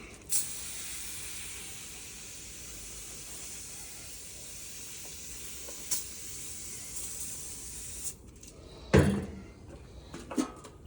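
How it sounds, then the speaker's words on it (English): A steady aerosol cooking spray hisses for about eight seconds, then stops, followed by a few clunks and handling noises nearby. "Give this a spray."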